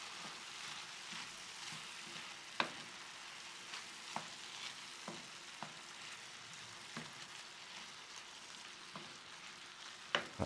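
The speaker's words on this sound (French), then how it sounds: "On remue tout ça une fois de temps en temps." Ratatouille vegetables stirred in a pan give a quiet steady sizzle with occasional soft scrapes and clicks of the spoon, fairly faint and without voices.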